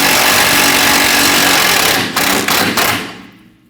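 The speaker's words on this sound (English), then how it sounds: "Using an 18mm socket, we're going to remove the bolt." Bolt on a 2012-2022 Volkswagen Passat rear suspension being removed with an 18mm socket, with a loud, continuous buzzing impact-tool rattle up close that stutters briefly near the end and then cuts off.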